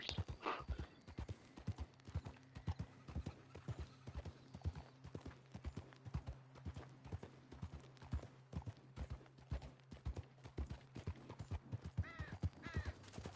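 Horse hooves clip-clop steadily at a walking pace in the video game Red Dead Redemption 2, close and fairly loud, a continuous even rhythm across the whole stretch with a faint low hum beneath.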